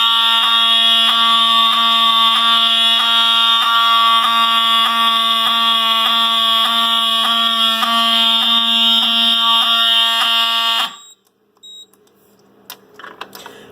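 A fire alarm triggered by a 278 pull station sounds a loud, continuous pulsing tone for about eleven seconds, then stops, leaving quiet room noise with a few faint clicks.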